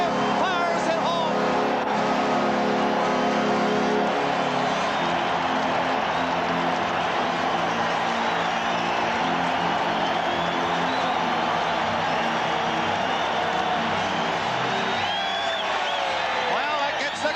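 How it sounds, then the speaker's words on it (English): A Chicago Blackhawks home crowd roars after a short-handed goal against the Maple Leafs in a 1991 hockey game, a loud, dense and sustained din that fills the whole stretch, with commentators talking over it. "Well, that gets the crowd going."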